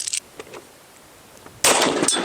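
A 5.7 pistol fires into homemade Kevlar armor: a faint click and small noises, then one loud, sharp report with a brief ringing tail near the end.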